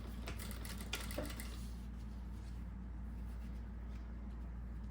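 A sewing machine stitches a zipper onto a fabric cosmetic bag, giving a steady low motor whir and rapid needle hum that runs evenly throughout, with a few faint clicks early on and no speech.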